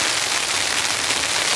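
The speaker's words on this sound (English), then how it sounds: "That's ice. It's not really snow, it's more like hail. That loud ticking sound hitting off the tar." Hail ticking on a camping tarp during a snow and rain storm: a dense, continuous, loud patter of hard little hits with no pauses.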